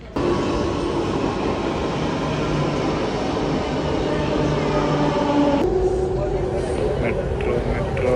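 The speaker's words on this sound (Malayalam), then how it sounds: "ഇനി കാത്തിരിക്കാം മെട്രോന് വേണ്ടി." A metro train arriving rumbles loudly and steadily nearby, shifting in tone partway through, while people talk.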